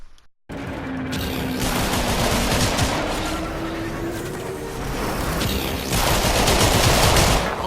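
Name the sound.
ship's cannon firing at the player in the video game Warframe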